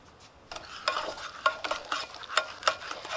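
Melted butter and brown sugar are stirred in a pan on a grill. A utensil scrapes and clicks in a steady rhythm over a faint sizzle, close and fairly quiet, with no speech.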